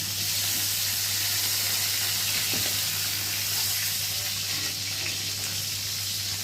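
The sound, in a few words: pointed gourd frying in oil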